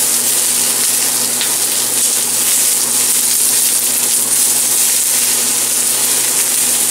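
Eggplant slices frying in a pan give off a steady, close hiss of sizzling that holds at an even level throughout, with no talking.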